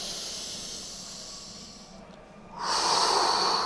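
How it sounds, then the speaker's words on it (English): A long, deep breath in during a shoulder release exercise with a massage ball: a soft airy hiss that fades slightly, then swells into a louder, fuller inhalation near the end, close to the microphone with no talk. "Big breath in."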